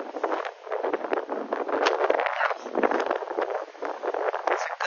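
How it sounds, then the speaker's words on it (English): Strong wind buffets the microphone on the Maspalomas sand dunes, a loud, gusty roar that surges and eases without letting up. "wow, it's really windy."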